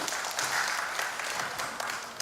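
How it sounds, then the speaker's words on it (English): Crowd applause at a public event in the Philippines welcoming a former vice mayor, dense and steady clapping throughout at moderate distance. "Palakpakan po natin si Ma'am Lulu."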